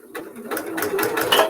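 A sewing machine runs slowly through pieced quilting fabric for a circle block without backstitching, its needle chattering in a steady, close, moderately loud rhythm.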